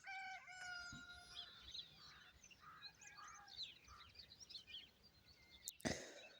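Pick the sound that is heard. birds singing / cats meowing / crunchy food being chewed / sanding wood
birds singing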